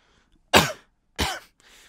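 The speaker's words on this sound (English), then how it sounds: "I keep coughing." Two sharp, loud coughs about half a second apart from someone playing The Thing (2002), with a fainter throat-clearing rasp trailing after, alone with no talk.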